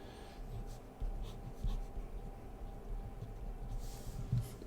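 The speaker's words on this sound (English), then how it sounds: "You can see how fast I'm sketching here." A pencil sketches quickly on paper, making soft scratchy strokes and small taps in a fast, uneven rhythm. The sound is quiet and close, with no voices.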